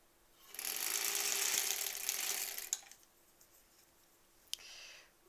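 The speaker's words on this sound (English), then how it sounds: "it sounds like it's getting a little kerchunky. And like you can hear it stab through the fabric." A sewing machine runs in a burst of mechanical clatter as the needle punches through quilt fabric, then stops, followed by a couple of sharp clicks and a short second run, close and fairly quiet, with no talk.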